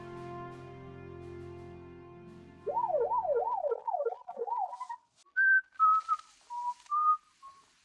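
A police deputy whistles alone while driving, first a rapid warbling trill, then a few separate sustained notes stepping up and down, close and clear.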